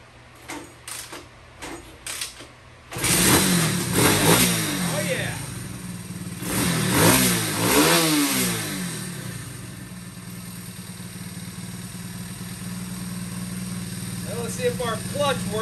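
Small CT70 clone minibike engine sputters to life after a few quiet attempts, then revs up and down in loud surges before settling into a steady idle, with talk at the start.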